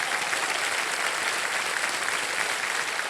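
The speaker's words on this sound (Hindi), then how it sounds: "एक बार तालियों के साथ उनका स्वागत करिएगा।" Dense, steady applause from a game show studio audience, loud and continuous for the whole stretch with no voices over it.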